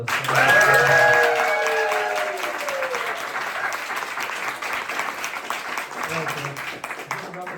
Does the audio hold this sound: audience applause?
yes